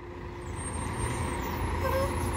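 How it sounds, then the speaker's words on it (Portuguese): An Águia Branca intercity bus arriving at Vitória bus station: a steady, fairly loud engine rumble with a brief air-brake hiss near the end, heard with no talk. "Mais um carro aqui da Águia Branca."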